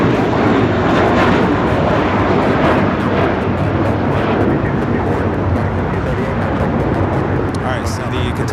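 A jet airliner on approach into Los Angeles airport, arriving from Anchorage: a loud, steady broadband engine roar that holds for the whole stretch without a break.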